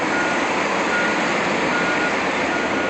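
Steady electronic reversing beeps ring out from a huge industrial truck, likely at a grinder worksite, continuous and fairly loud over a constant broadband engine and machinery roar, with no talking.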